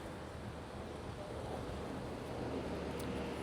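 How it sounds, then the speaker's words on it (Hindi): Strong headwind roars into the microphone along a highway in Chile, with a continuous, loud, broadband rush that does not let up. "हवा चल रही है यार सामने की तेज़"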